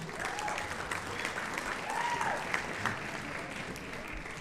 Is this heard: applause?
yes